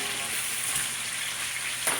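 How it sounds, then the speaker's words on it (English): Quail braising in a pan, a steady, close frying sizzle that holds through the whole short stretch, with no talk over it. "we're braising it now, so we want it to caramelize"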